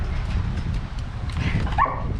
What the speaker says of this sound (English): That's Toki and Winter having a little squabble over the food